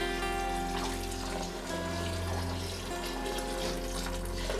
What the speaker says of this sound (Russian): Берем водички, наливаем